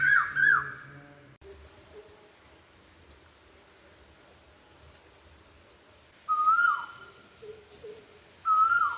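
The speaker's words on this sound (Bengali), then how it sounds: "কি সুন্দর কোকিল ডাকছে।" A koel calls in a garden on a rainy morning, clear rising-and-falling whistled notes repeated three times with gaps, over soft patter of light rain.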